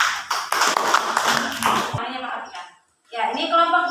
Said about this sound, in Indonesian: Kita beri aplaus ya untuk kelompok 3.